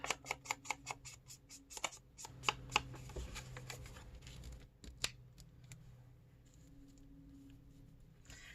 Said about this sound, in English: let's cut off this part